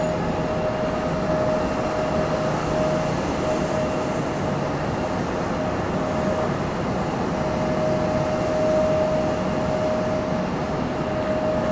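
UPS Boeing 767 heavy jet departing, a loud, continuous broadband roar with a steady whine, sustained throughout without talk.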